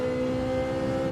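A race car engine in Gran Turismo 7 holds high revs at the limiter, a steady, sustained whine with a buzzing edge over a brief moment, loud and alone without talk.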